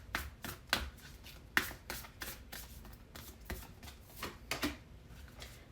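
Oracle cards shuffle in the hands in a series of soft riffling bursts and light taps at close range, with no talking.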